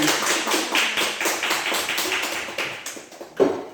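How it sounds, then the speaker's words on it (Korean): Audience at a teacher training lecture at a middle school applauds at the end, steady dense clapping from many hands in a room that fades after a few seconds and ends with one louder hit. "박수 좀 크게 쳐주세요"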